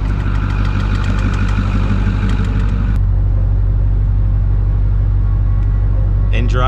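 A Cummins pickup truck engine rumbles loudly and close during a recovery of a frozen Ford, holding a heavy, steady diesel drone throughout, with a faint voice underneath.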